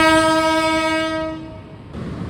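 The Mutiara Timur passenger train sounds a loud, sustained horn at Klakah station in Indonesia. The tone fades after about a second and a half, leaving a low rail rumble.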